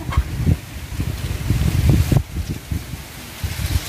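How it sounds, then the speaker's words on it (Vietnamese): Gusty wind blows across an open field in rural southern Vietnam where a snake kite is being flown, buffeting the microphone with steady rumbling roar and rustle, fairly loud and continuous with no talking. "Đó cả nhà thấy gió không?"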